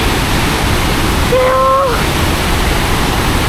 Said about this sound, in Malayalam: വെള്ളം ഇങ്ങനെ കുത്തി ഒലിച്ചു പോകുന്നുണ്ട്